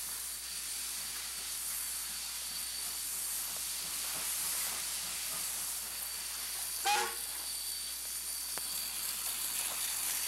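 A steady, continuous hiss of steam comes from Mikado steam locomotive 464 during a test run, filling the scene evenly at a moderate distance, with a brief faint clank partway through and no talking.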